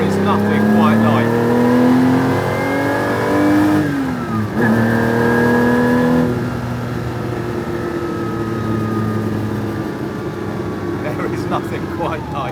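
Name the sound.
Ferrari Colombo V12 engine revving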